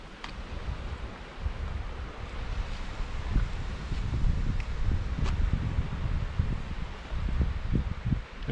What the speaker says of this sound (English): It's windy, it's not hot.